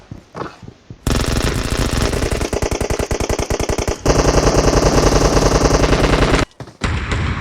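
Rapid automatic gunfire rattles in PUBG Mobile on the Livik map, loud and close, in long sustained bursts with a short pause midway and a final burst after a brief gap.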